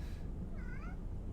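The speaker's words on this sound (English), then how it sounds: "Oh my god, cat." A house cat meows once in a quiet indoor room, a short, faint rising-and-falling cry over low background noise, with no talking.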